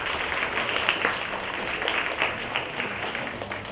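Sustained crowd applause fills a hall at a Malaysian national vocal competition after the women's preliminary round, a dense, steady wash of clapping from the audience that holds evenly throughout.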